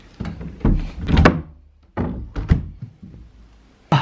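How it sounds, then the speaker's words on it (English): A wardrobe door is shut with a run of close, heavy wooden thuds and knocks: a cluster in the first second and a half, two more near the middle, and a last sharp bump at the end, with no talking. "I've really got to shut that wardrobe."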